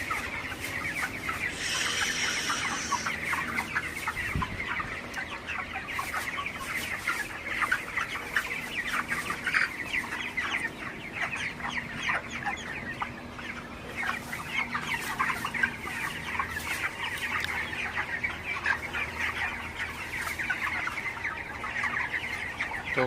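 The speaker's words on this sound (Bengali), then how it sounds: "আজকে হচ্ছে আমার ব্রয়লার মুরগির বয়স 28 দিন চলতেছে" A flock of 28-day-old broiler chickens in a poultry shed, with continuous dense clucking and chattering from many birds, close and steady throughout, without speech.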